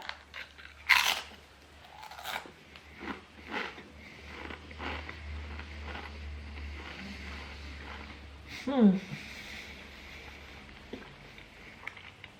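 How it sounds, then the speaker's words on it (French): Pringles crisps crunched and chewed close to the microphone, with sharp bites followed by softer chewing and a few sniffs, spread unevenly over about twelve seconds in a quiet room. "C'est parti pour le mukbang Pringles."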